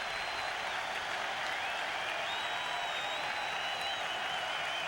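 A large Fenway Park baseball crowd applauds and cheers a strikeout, a dense, steady roar of clapping filling the whole stretch with no pause.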